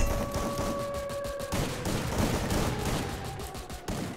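Gunfire in the battle royale game Free Fire during a scrim match: continuous rapid volleys of shots, loud and close, with brief tonal beeps from the game running beneath the early shooting.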